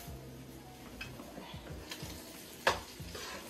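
Ground meat for sloppy joes sizzles quietly in a pan on a stove while a utensil scrapes and stirs it in a loose rhythm, with a sharper clink near the end.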